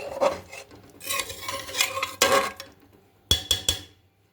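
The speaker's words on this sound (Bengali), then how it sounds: "লাস্ট ওই চেরা কাঁচা লঙ্কা দিয়ে দিলাম, নেড়ে দিয়ে কুকারের ঢাকনাটা বন্ধ করে দিই।" Chicken with slit green chillies stirred in a pressure cooker, a few scraping, clattering strokes of a utensil against the metal pot, then three sharp clinks near the end.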